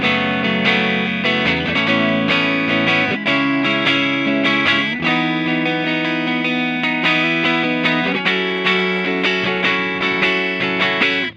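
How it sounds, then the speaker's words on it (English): Electric guitar run through a clean amp and a distorted amp blended together, each picked note attacking crisply then sustaining with crunchy grit, played as a steady, busy riff close up and loud throughout, no voices. "you get the nice attack of each note, but you get that crunch and sustain of the dirty amp as well, blended together."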